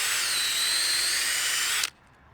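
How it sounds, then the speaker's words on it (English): A power drill bores a tap hole about two inches into a maple tree trunk outdoors, a loud steady high whine that holds for about two seconds, then cuts off abruptly. "we're probably going to drill in around 2 inches."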